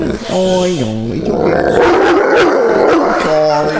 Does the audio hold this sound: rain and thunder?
no